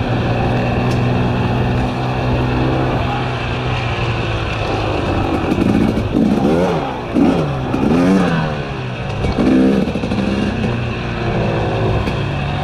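A two-stroke dirt bike on a forest trail runs loud and close throughout, its engine note climbing and dropping in several sharp revving sweeps toward the middle before settling back to a steady drone.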